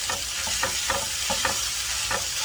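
Pad thai noodles are stirred in a sizzling frying pan, with a steady rhythmic scraping about every quarter second over a constant loud fry. No voices are heard.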